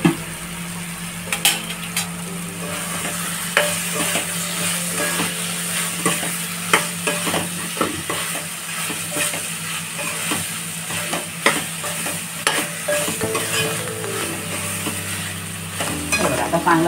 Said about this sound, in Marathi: आता चांगला सगळा पूर्ण एकजीव करून घ्यायचा आहे.